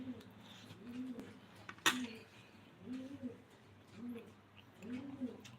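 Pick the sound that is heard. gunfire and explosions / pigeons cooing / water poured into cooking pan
pigeons cooing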